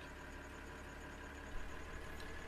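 A tractor engine in the Farming Simulator 2013 game runs at a steady idle, giving a faint, even mechanical hum that goes on without a break and with no voices.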